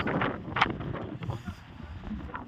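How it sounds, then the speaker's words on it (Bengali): A strong mountain wind, estimated at 80 to 100 km/h, blows on the way to Changu Lake. It makes a continuous buffeting rush against the microphone, with a sharper gust early on. "আমার তো মনে হচ্ছে 80 থেকে 100 কিলোমিটার হাওয়া হয়েছে"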